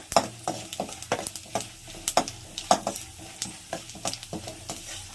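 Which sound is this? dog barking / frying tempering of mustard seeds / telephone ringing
frying tempering of mustard seeds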